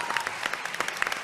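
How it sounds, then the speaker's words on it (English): A BlizzCon audience claps together in a dense, lively burst of applause that fills the hall for a moment, with no speech over it. "Can we just clap for Aisha because she's here from Cairo?"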